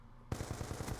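A rapid, loud volley of gunfire in Call of Duty Black Ops 2 online multiplayer, with sharp evenly spaced shots bursting in suddenly after a brief quiet moment.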